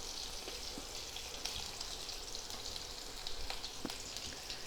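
Curry leaves and green and red chillies sizzling in hot oil while tempering dal, a steady bright crackling hiss with occasional sharper pops, close and continuous.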